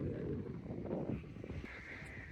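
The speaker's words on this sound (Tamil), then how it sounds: "காற்று நல்லா அடிக்குது" Strong wind blows across the Kurnool hills, roaring and buffeting the microphone in a continuous low rush with uneven gusts.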